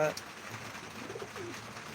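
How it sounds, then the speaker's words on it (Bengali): An aggressive male pigeon kept at home gives low, repeated cooing close by, heard under a person talking. "আমার বাসার সবচেয়ে এক অ্যাগ্রেসিভ একটা নর কবুতর"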